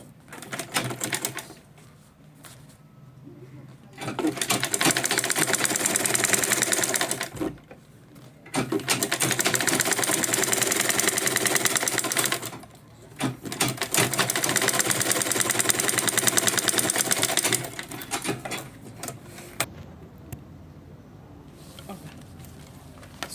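A sewing machine top stitching a 16 centimeter purse organizer bag, running in long steady bursts separated by short pauses, close and loud, with a voice speaking in between runs.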